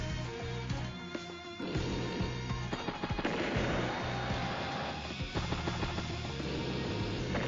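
Anti-aircraft gunfire bringing down a Duster plane in Advance Wars: Days of Ruin, a busy stretch of rapid game gunfire and blasts over background music, fairly quiet overall.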